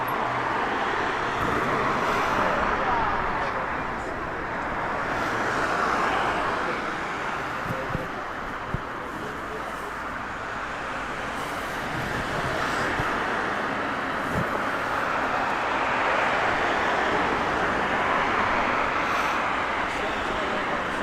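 A Royal Air Force A400 turboprop transport aircraft at Southend Airport gives a broad, steady rumbling roar that swells and fades over about twenty seconds, heard from a distance outdoors with faint wind and occasional voices.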